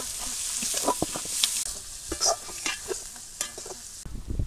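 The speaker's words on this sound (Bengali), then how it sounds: "একটু তেল দিয়ে দিলাম, পেঁয়াজ কুচি দিয়ে দিলাম" Chopped onion fries in oil in a wok with a steady hiss, while a spoon scrapes and taps the pan in irregular strokes, close and moderately loud, with no talking.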